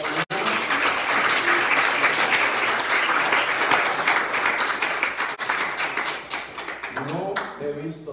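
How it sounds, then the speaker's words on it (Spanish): Church congregation applauding during a Sunday morning service, a dense sustained round of clapping that runs steadily throughout, with a voice speaking over it near the end. "Démosle un aplauso al Señor en esta mañana"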